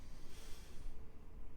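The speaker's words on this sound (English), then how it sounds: "Take a deep breath through your nose." A deep breath drawn in through the nose during a chiropractic adjustment, a steady close breathy hiss lasting over a second with no talking.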